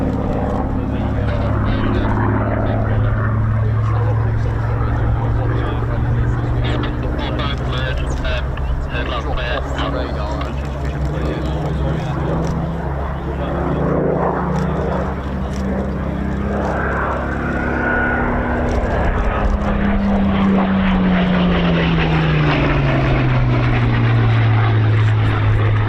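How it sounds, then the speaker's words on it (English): Spitfire piston engine during an RAF Cosford air show display, a continuous loud droning roar with a rising and falling pitch as the aircraft turns through its circuit, with a commentator talking over it. "bringing the Spitfire round into the 360"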